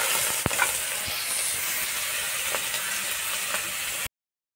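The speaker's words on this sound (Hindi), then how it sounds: "कढ़ाई जल गया है, हमारा ब्लॉग बनाते बनाते अभी इसमें तेल भी जल रहा है" Oil sizzles and hisses steadily in a burnt kadhai for about four seconds, with a faint tick or two, then cuts off abruptly. No talking.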